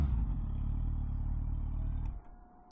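A 2024 Suzuki GSX-S1000GT motorcycle engine hums with a close, steady low rumble, then cuts off abruptly just after two seconds.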